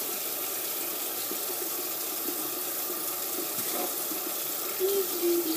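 A tap runs steadily to wet curly human hair, a moderate rushing flow with faint splashing that briefly changes near the end, with no voices.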